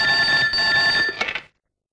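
A telephone rings once with a bright, trilling electronic tone, then cuts off abruptly into silence.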